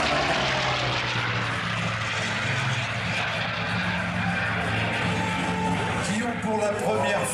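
Hawker Sea Fury propeller fighter at an airshow in La Ferté-Alais, its engine droning steadily overhead at moderate distance, continuous through the clip with a slowly shifting pitch, while a commentator talks over it.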